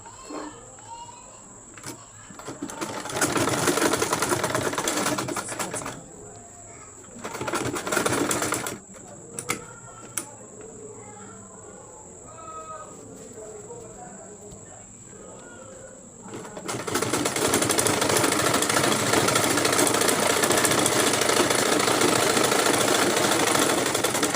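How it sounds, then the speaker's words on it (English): A sewing machine runs stitches along the fabric band of a spiral turban cap, buzzing in several loud bursts of varying length with pauses between them, and a voice speaks during the quieter gaps. "Remember, I'm sewing on top of my band."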